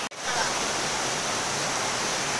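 Water spills steadily over two stones in a rocky stream, a continuous broadband rush close by, alone and unbroken after a brief dip at the very start.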